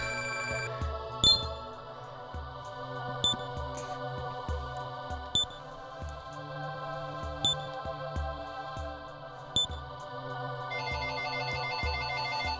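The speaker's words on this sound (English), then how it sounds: "the phone has to go off, ruining the atmosphere" A phone rings in Shin Megami Tensei IV: a short electronic ringtone chirps repeatedly at a steady pace, about every two seconds, over the game's background music.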